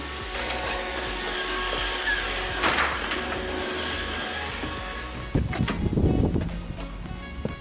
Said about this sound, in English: Leaving the house means running Roomba while we're gone